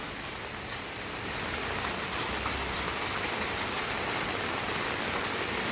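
Rain falling steadily in a small park, an even, close wash of drops on surfaces with no pauses and no voices.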